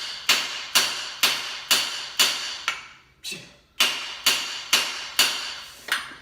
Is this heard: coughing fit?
no